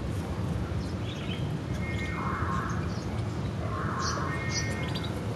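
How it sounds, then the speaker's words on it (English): Several birds call in short bursts over a steady outdoor background, with two clusters of harsh, tonal calls a few seconds apart, moderately close and without speech. "Birds are weird."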